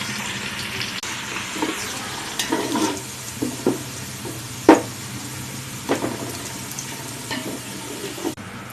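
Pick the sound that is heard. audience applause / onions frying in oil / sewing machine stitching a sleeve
onions frying in oil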